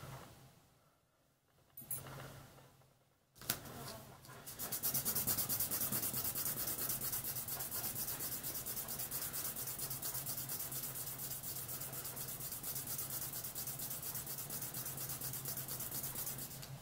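A small metal washer being polished by hand produces a continuous, steady rubbing and sanding hiss that begins after a few brief scrapes and quiet pauses, then runs close and even to the end with no talking.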